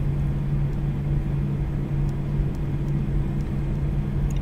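Passenger airplane taxiing slowly before takeoff, heard from a seat beside the engine: a steady low hum and rumble with a constant droning tone, continuous and close throughout, no talking.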